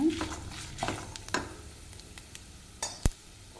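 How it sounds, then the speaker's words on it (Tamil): Spiced puffed rice fries in oil while being stirred, giving a faint sizzle broken by soft scraping strokes and a few louder clinks of a utensil against the pan, quiet and close. "நல்லா எண்ணெயிலே வறுபட்டுருச்சுங்க"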